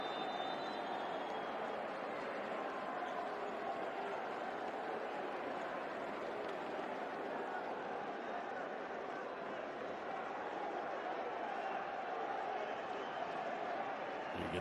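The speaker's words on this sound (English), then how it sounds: "let's listen to the crowd as Diaz comes back in" Crowd inside a basketball arena at a championship final roars in a continuous, even wall of noise, cheering and chanting steadily from a distance throughout.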